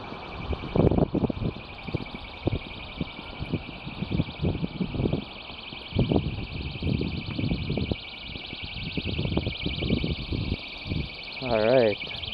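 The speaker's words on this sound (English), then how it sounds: "now I'll do a test outside and see how loud and far this panic alarm can go" A shrill, steady electronic tone from a personal panic alarm rings continuously outdoors while several people talk loudly nearby over it.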